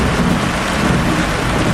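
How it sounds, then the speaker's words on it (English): Loud thunder rumbles through a Florida thunderstorm, a heavy, continuous roar that fills the whole stretch with steady, booming low-end energy and no talking. "Loud thunder."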